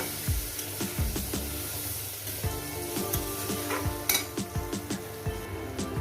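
Spice-rinse water hits a pan of poppy-seed fish curry with fried potatoes, setting off a steady close sizzle with scattered clinks and scrapes of a utensil against the pan.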